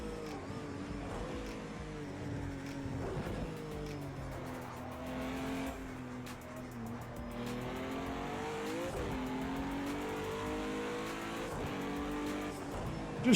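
Continuous GT3 race car engine roar from Project Cars 2 at the Bathurst circuit, revving up and down through gear changes with brief tire squeal, loud and steady throughout with no talking.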